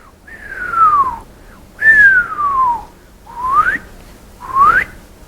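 A person whistles four long chirps imitating bat echolocation calls: the first two sweep downward, the last two rise, each about a second long with short gaps, loud and close with no talking.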